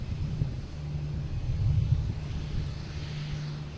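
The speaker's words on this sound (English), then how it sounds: "Lufthansa A380 coming in from Munich" A Lufthansa Airbus A380 arriving from Munich passes overhead at Boston Logan, a steady low engine rumble with a sustained drone, moderately loud against wind noise.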